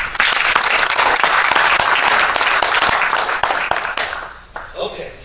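Loud, sustained applause from a crowd at a Distinguished Young Women showcase for Fulton and Pulaski County, many hands clapping densely for several seconds before tapering off, with voices in the background.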